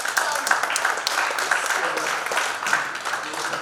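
Audience applause at a civil-liberties union unit conference in Jaipur, a dense steady patter of many hands clapping at moderate loudness for several seconds, with no clear talk over it.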